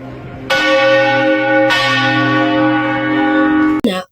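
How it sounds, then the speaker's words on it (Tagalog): A church bell rings loudly with a long, shimmering resonance, struck twice, then a third strike cuts in just before the end. "ang tunog ng kampana"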